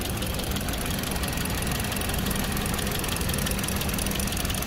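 A 2017 Hyundai Solaris with a 1.4-litre engine idles with the hood open, a steady, close mechanical hum with a fine ticking rattle running throughout.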